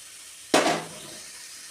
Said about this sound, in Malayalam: ഇത് നന്നായിട്ടൊന്ന് വഴറ്റിയെടുക്കുക